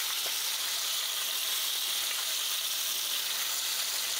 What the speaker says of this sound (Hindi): 2 मिनट बाद सभी मछली को हम पलट के दूसरी ओर भी फ्राई करेंगे 2 मिनट के लिए।